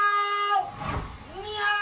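A man loudly screams "meow" twice in a drawn-out, wavering wail, imitating a cat; the voice rises and falls in strained cries with a brief pause between them.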